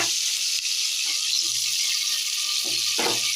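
Tomatoes sizzle with sautéing onions in a pan, a steady bright frying hiss heard close up with a few soft stirring knocks underneath.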